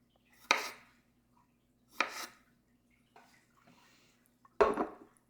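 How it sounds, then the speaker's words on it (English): A knife halves cherry tomatoes for a healthy tuna salad, with three sharp, close cuts spaced about a second and a half apart against a board, plus a few fainter taps between them, with no talking. "I'm going to half my cherry tomatoes, or you can quarter yours, depending on how big they are"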